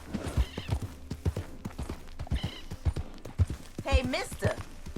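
Horse hooves clip-clop in a steady rhythm, close and fairly loud, with occasional whinnies in Red Dead Redemption 2's frontier setting, ridden by Arthur Morgan.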